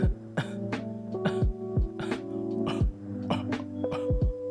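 Soft throat-clearing coughs repeat in a loose rhythm, the kind used for blowing vape O rings, close and fairly quiet with short breathy bursts between them.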